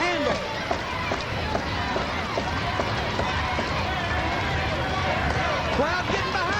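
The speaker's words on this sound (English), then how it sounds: "Crowd getting behind him." A wrestling crowd at a women's tag team title match roars and cheers steadily throughout, a dense continuous wall of voices, with a commentator talking over it.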